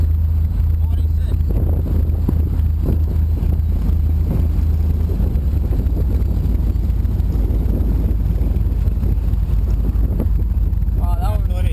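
A turbine-powered racing powerboat passes at the Manhattan Super Boat Race, a loud continuous roar with heavy wind buffeting on the microphone and people talking over it.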